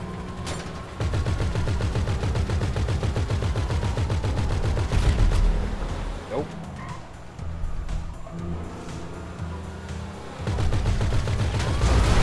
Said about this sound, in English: Something shooting us from behind.